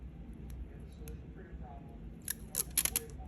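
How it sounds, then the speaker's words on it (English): Scissors snipping through pipe cleaner pieces for a craft, a quick cluster of sharp close-up clicks near the end after a stretch of quiet room hiss, with no talking. "I have to use like scissors to cut the pieces"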